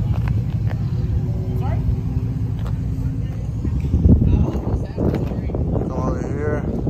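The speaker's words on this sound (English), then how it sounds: "Got some trucks over there already pulling up." Trucks pull up nearby with a low engine rumble and some wind buffeting the microphone, a brief louder surge partway through, under steady talk.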